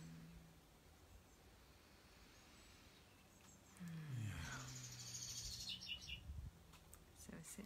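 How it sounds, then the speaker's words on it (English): Birds calling outdoors, including a pigeon, faint chirps and a low cooing call rising midway, with brief brighter tweets later against soft background hiss. "Sitting outside with our birds again. There's a pigeon up there"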